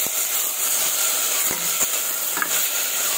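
Tomatoes sizzle in a hot frying pan over a strong flame while cooking petchay with egg, a steady frying hiss with a few soft stirring clicks, close and continuous, no talking.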